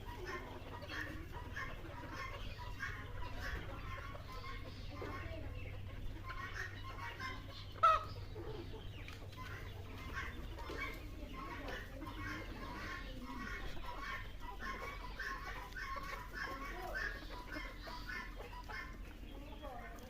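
Chickens and roosters cluck faintly in a farmyard in Kishoreganj, Nilphamari, giving short repeated clucks over a low hum with one brief knock.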